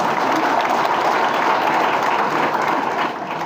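An audience at a political rally breaks into dense, continuous applause, loud and steady throughout before easing slightly at the end.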